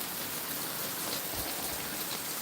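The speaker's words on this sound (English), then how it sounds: "Rain, rain, rain." Steady rain falls in Charleston, a dense, even hiss of drops that stays constant and fairly loud throughout, with a soft low thump partway through and no talking.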